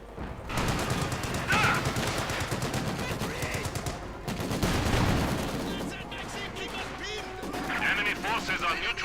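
Rapid machine gun fire in the World War II strategy game Company of Heroes 2, with dense rattling bursts, scattered explosions and crashes throughout, playing under a commentator's voice.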